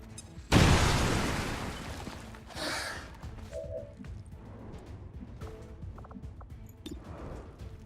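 A single loud grenade blast in the game XCOM 2 erupts near the start and rumbles away, followed by a softer secondary burst and quieter battlefield noises.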